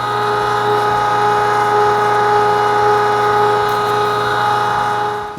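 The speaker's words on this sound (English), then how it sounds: "now I'm going to reset our grinder and we'll go for our second grind" An electric meat grinder runs steadily, pushing seasoned ham sausage meat through for a second grind, a continuous loud motor hum with a constant mechanical drone and no pauses.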